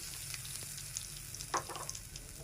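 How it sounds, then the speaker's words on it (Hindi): Fifty grams of dried coconut fry in ghee over low heat, a faint soft sizzle with a few small pops and light stirring clicks, with no talk. "ये मेरे पास 50 ग्राम खोपरा है, ये हम फ्राई करेंगे"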